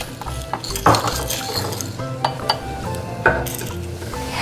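Leeks stirred in olive oil in a pan, a spoon scraping and clinking against the metal at a steady pace over a soft sizzle, with a few sharper knocks standing out.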